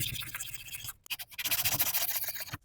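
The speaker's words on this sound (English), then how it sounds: "Make sure you don't sand down this elbow." Sanding on metal plates of an FS130R string trimmer head, short rough rubbing strokes close up, a burst, a brief pause, then a quicker run of scratchy passes.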